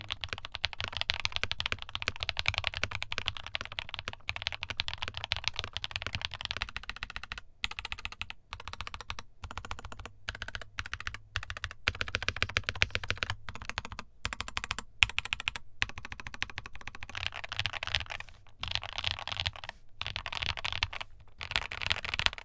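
Steady mechanical keyboard typing with PBT GMK Arctic clone keycaps, dense clacky keystrokes in a continuous run with brief pauses, close and fairly loud, no voices.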